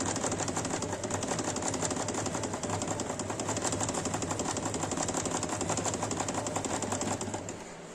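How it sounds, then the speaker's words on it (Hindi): A sewing machine stitches fabric in a fast, even mechanical whir with a steady rattling pulse, close and continuous, before it eases off at the end. "ये मैंने बिल्कुल इसको उतना ही स्टिच किया है कि मेरा कपड़ा स्टिच हो जाए"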